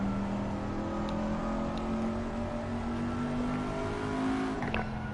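Race car engine in Assetto Corsa Competizione at Indianapolis, a loud steady drone with a rising tone under acceleration and a brief shift near the end, continuous and close with no talk.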